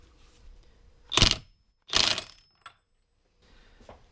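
A 32mm socket wrench spins up an engine bolt on a Ducati Testastretta 749 engine bottom end, giving two quick bursts of ratcheting and metallic clicking, followed by a small clink and a faint rattle.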